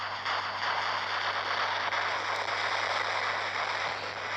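Robot weapons fire continuously in the War Robots video game, a dense, steady stream of rapid shots and crackle that holds at an even loudness for the whole stretch.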